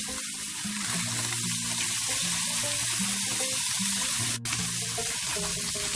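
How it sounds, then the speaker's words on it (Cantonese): Golden threadfin bream fries in a pan with a steady, close sizzle and spatter that runs throughout, with a soft melodic tone underneath. "煎一煎呢個紅衫魚。"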